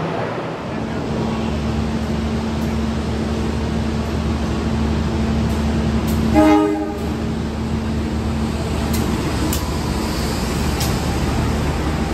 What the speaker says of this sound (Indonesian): Barusan masuk kereta Progo dari Pasar Senen, tujuan akhir Lempuyangan